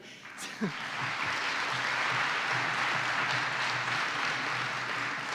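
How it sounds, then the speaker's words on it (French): A studio audience applauds a guest on a French television talk show, the clapping rising quickly after a brief whoop and continuing evenly, with some voices underneath. "Je vous demande de l'applaudir."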